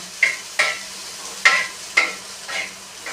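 Okra cooks on a tawa griddle over a gas stove, with five or six sharp scraping stir strokes at a steady pace over a faint continuous sizzle, close and clear.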